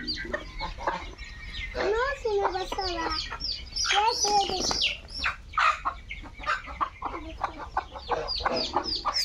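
Farmyard chickens and chicks on a Bangladeshi farm with ducks cluck and squawk in quick overlapping bursts, fairly close, with someone talking over them at times.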